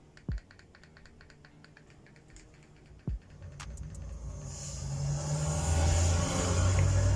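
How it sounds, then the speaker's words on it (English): Low, steady rumble of busy road traffic from a recording that swells and grows louder toward the end, with a couple of sharp knocks and clicks early on. "I have some busy traffic noise that I'm going to turn on right now."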